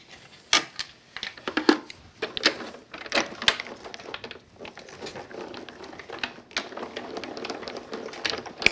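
Card stock pressed through a die cutting machine in a home crafting setup, giving a run of sharp mechanical clicks and ratcheting clatter in irregular bursts, close and moderately loud, with no talking.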